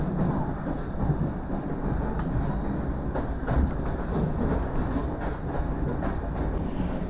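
A train runs along a railway line in South Australia, with a steady rumbling roar, rhythmic clicks over the rail joints and a faint hiss. Heard from aboard as it pulls in, with no talking.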